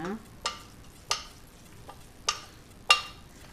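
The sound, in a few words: curry leaves and coriander stirred and frying in a pan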